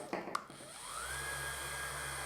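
A DeWalt-style orbital sander with a paddle switch spins up from a slow speed, its whine rising steadily in pitch and then holding a faint, steady hum close by, after a couple of soft clicks at the start.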